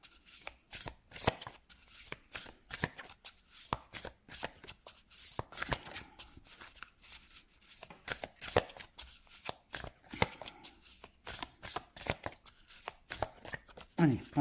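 Pachamama oracle cards are shuffled by hand close up, a rapid run of crisp riffling slaps and flutters that repeats steadily throughout.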